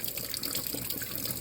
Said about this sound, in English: We're going to wash the orange.